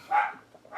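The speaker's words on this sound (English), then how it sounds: "let me go silence my guard dog real quick" A guard dog gives a single short, fairly close bark, followed by a pause and the start of another bark at the end.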